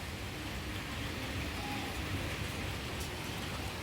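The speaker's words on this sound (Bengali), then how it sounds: "বৃষ্টিও হচ্ছে তার সাথে বেশ ভালোই বৃষ্টি হচ্ছে" Steady, dense rainfall hissing without a break, a heavy downpour drumming on surfaces with no voices.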